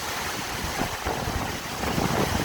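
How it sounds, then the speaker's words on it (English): Hurricane Ida's wind in Houma, Louisiana, roars as a loud, constant broadband rush with gusty surges and buffeting against the microphone, and no voices. "Just incredible force of wind"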